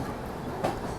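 Punjab Mail train running through Dadar station in Mumbai, a continuous low rumble of rolling carriages with two brief louder clanks from the wheels near the end.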